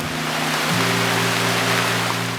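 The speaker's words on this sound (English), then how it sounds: "The torrential rains came down so hard it was difficult at times to look straight ahead." Heavy torrential rain pours down in a Costa Rica rainforest, a loud dense continuous hiss with a steady low hum running beneath it.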